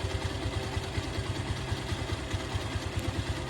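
A Bajaj Pulsar motorcycle engine idles alone after a full engine rebuild, a close, steady low putter with even rapid pulses and light mechanical clatter.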